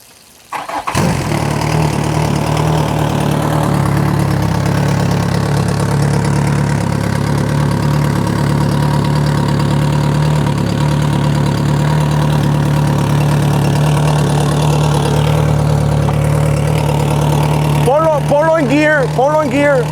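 An outboard engine on a Nautica wide-body inflatable RIB starts up and settles into a steady, loud idle with a low, even drone. Voices briefly come in near the end.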